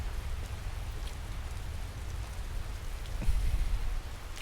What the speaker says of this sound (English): Moody shot of Raimyr in the rain.